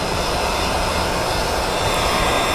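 Heat gun on its low setting warming vinyl wrap film on the side panel of a Jeep Compass, a loud, constant blowing roar with no break, close to the ear.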